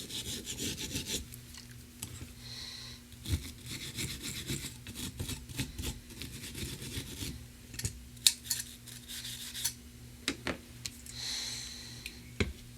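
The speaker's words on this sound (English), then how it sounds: "brush over the gasket surface, so that we get a good seal." A brush scrubbing the gasket surface of a Tecumseh 5 hp snowblower carburetor, close and fairly quiet, with repeated bristly rasping strokes and occasional small metallic knocks, no speech.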